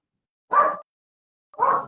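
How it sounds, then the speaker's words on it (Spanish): Two short, muffled dog barks about a second apart, moderately loud and isolated against silence. "porque el perro está ladrando"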